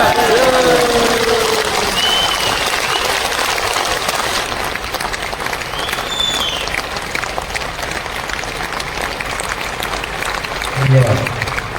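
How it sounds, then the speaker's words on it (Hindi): An audience at an RCM motivational seminar claps with both hands raised, a dense, loud, steady wash of applause that fills the whole stretch, with crowd voices mixed in. "दोनों हाथ ऊपर करके ताली बजा दीजिए।"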